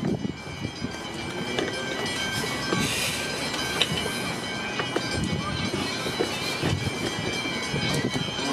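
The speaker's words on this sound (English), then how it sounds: "Down freight train on the standard gauge." A Pacific National grain freight train hauled by locomotives BL30 and 8134 rolls past on standard gauge track, wheels rumbling and clacking with occasional squeals, loud and close throughout, with faint talk beneath.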